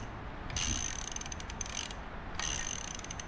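Crankshaft of a Mitsubishi 6G74 DOHC engine spun freely by hand on the bench, giving a close, steady light mechanical whirring with faint ticking, swelling in two pushes.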